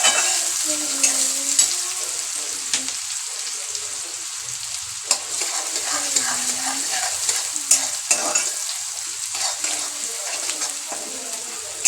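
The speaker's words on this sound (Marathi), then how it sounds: "कांदे आपण आता चांगलं परतून घ्यायचं आहे" Two or three finely chopped onions sautéing in a pan for a Maharashtrian fish curry. They give a steady, close sizzle with scraping stir strokes throughout, and a faint voice murmurs now and then.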